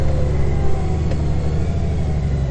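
A Honda Gold Wing motorcycle with DCT transmission engine braking as it downshifts while slowing for a turn, a loud close steady engine rumble with a low pulsing drone throughout.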